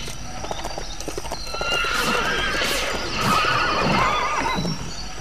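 A horse in the video game Lego City Undercover neighs in rising and falling whinnies over steady hoof clip-clops and light background game ambience.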